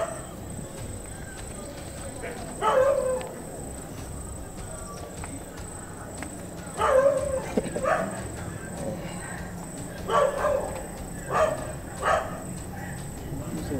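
A puppy barks in several short, sharp bursts spread across the stretch, fairly close, over a steady background hum, with possible faint voices nearby.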